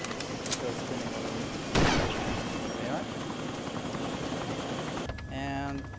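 A damaged helicopter in DayZ, its engine firing up with a steady whirring drone and a sharp crack partway through, ending in a quieter rotor spin with a voice talking over it.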